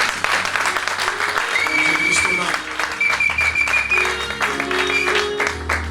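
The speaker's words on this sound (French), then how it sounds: "On acclame le Seigneur." A church congregation bursts into sustained applause and cheering during a French-language service, loud and close, with voices calling out over the clapping and music tones rising beneath.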